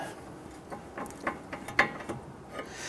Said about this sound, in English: We're going to use a 21mm wrench. You want to put that on there, and we want to loosen that.